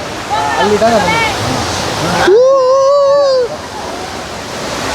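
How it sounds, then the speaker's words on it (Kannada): A small waterfall at Kallattigiri gives a steady rushing hiss of falling water in the background while people talk loudly nearby. "ಇದೊಂದು ಸಣ್ಣ ಫಾಲ್ಸು. ಆ ನೀರು ಇಲ್ಲಿಂದ ಹೋಗಿ ಹರಿಯುತ್ತೆ."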